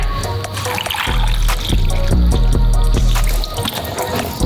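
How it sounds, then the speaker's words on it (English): Water is poured directly into the radiator of a McLaren 720 GTR with a failed engine, trickling and splashing up close at a fairly steady level with occasional knocks, and no talking. "I'm just gonna get some water directly into this radiator."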